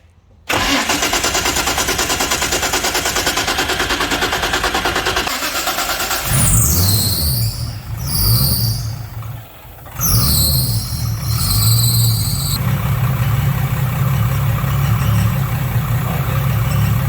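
Nissan R31 with a turbocharged RB30ET engine, running a swapped cam and rebuilt lifters, cranks with squealing whines then catches and settles into a loud, steady idle, close up with no talk.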